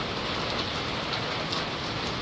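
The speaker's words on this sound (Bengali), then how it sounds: "কি অবস্থা বৃষ্টির!" Steady rain falls on a village morning after a night-long downpour, a dense continuous hiss of drops hitting surfaces nearby, even in level with no voices.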